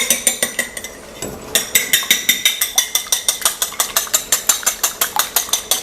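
A whisk rapidly beating eggs in a bowl, a fast even series of metallic clicking strokes, close and loud, with a short pause before the rhythm picks up again and continues steadily.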